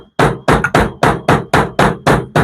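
A suspension bushing is tapped into a Skyjacker 2-inch drop A-arm for an 88–98 Chevrolet K1500, giving nine sharp, evenly spaced hammer strikes, close and loud, with no talking.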